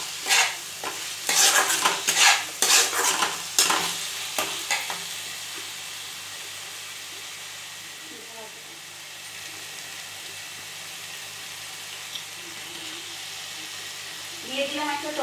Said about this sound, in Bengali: এবার মশলাটাকে আমি আঁচ কমিয়ে কষতে থাকবো যতক্ষণ অবধি না মশলা থেকে তেল বেরিয়ে আসছে।